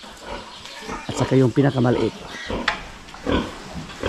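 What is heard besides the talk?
pig on a farm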